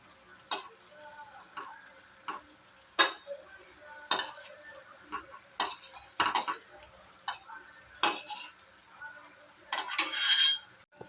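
Sweet potato snacks are flipped one by one in a frying pan, a series of sharp utensil taps and scrapes at irregular intervals over a soft background sizzle, close by, with no talking.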